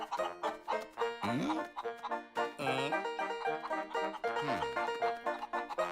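Hens clucking and cackling in a busy, repeated run of short calls, one loud squawk rising out near the middle, close and continuous over the whole stretch.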